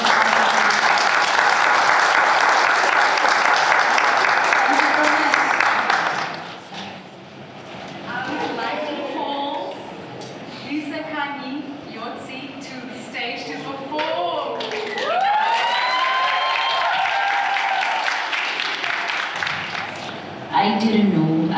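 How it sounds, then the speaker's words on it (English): Dense applause from an open mic audience fills the opening six seconds, then fades as scattered voices and speech take over with some background chatter. "So can we give a big round of applause?"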